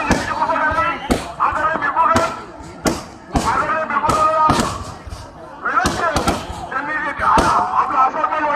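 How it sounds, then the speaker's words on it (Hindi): Fireworks burst repeatedly at a night-time Bhima Koregaon celebration crowd gathering, sharp loud cracks and bangs arriving in irregular clusters over a dense hubbub of crowd voices and shouting. "ये आतिशबाजी हो रही है"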